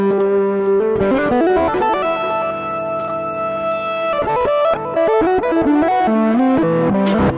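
A guitar chord runs through a Red Panda Tensor effects pedal, swelling in reverse and then playing forward, with distorted, sustained, layered tones and shifting pitches ringing loud and continuous without talk.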